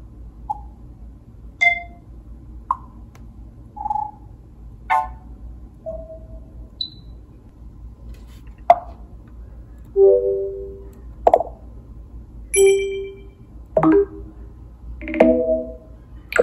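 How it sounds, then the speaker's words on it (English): A sequence of macOS Big Sur system alert sounds alternating with older MacBook alert tones: short, clean electronic chimes, pops and beeps, each isolated by brief silence over a faint steady hum, with no speech. "I'll have you guys take a listen to all the new sounds that are in Big Sur versus the old MacBooks"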